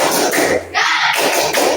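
Rhythmic group clapping chant in an Indonesian classroom ice-breaker, sharp bursts of claps and taps close by, in patterned beats with short pauses between.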